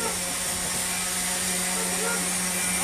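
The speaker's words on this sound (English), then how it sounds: "sanding away at this handle" A handle is sanded with a power sander, giving a steady loud motor whine with a constant hum and grinding texture throughout, no pauses.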